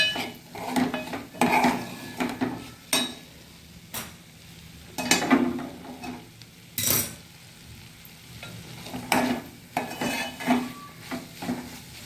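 Lentils, onion and tomato sautéed in a pan for a cabbage dish, with a spatula scraping and stirring in repeated bursts over a low sizzle, close and fairly loud throughout.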